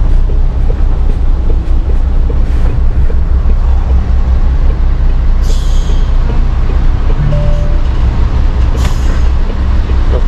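A four-axle MAN truck braking, with a steady loud engine and road rumble throughout and a brief hiss of air brakes partway through.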